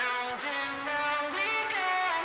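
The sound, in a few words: distorted vocals in a music track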